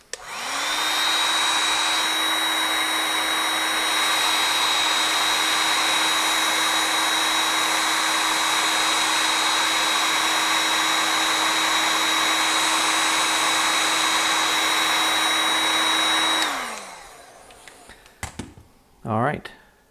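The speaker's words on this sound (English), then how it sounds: "men's hair dryer." A hair dryer spins up and blows at a steady high whine for about fifteen seconds while heating heat shrink wrap on a G-Body wiring harness, then shuts off and winds down, followed by a few handling knocks.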